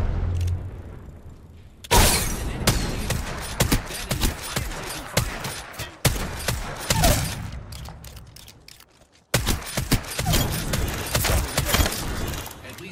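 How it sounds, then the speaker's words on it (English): Arc Star and frag grenade detonations in a shooter video game, sharp blasts and bursts of gunfire in three loud segments separated by abrupt cuts, with a voice briefly calling out. "Throwing Arc Star. Frag out."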